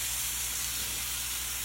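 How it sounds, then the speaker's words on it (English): A steady, bright hiss of milk sizzling in a hot pan, even and continuous with no other sounds. "Yeah, it's gonna be sizzling."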